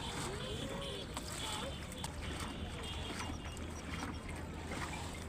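A boat moving along a river: a steady low motor hum with water and wind noise, continuous and fairly close throughout.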